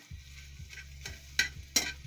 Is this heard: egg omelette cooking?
yes